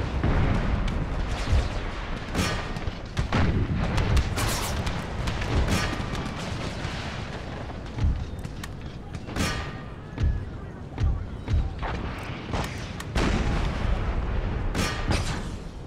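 Artillery in an American Civil War battle from an Empire: Total War mod fires canister and shrapnel shot, with repeated booming reports and thuds at irregular intervals, some near and loud, others more distant, under occasional talk.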